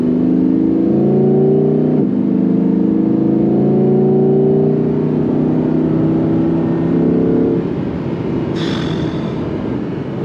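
An Audi R8 sports car drives along a wet road, with a loud, continuous engine drone heard from inside the cabin that rises in pitch in steps, then holds as steady road noise, with a brief high hiss near the end.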